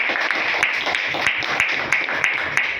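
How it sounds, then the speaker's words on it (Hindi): An audience at a weekly business meeting in Gaya, Bihar claps in honour of Saviya, a steady burst of applause that holds evenly for a few seconds. "साविया के सम्मान में जोरदार ताली बजाएं"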